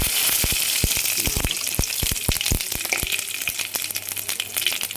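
Mustard seeds and urad dal tempering in hot oil in a kadai, crackling with a steady sizzle and sharp popping bursts that keep firing irregularly and close up throughout.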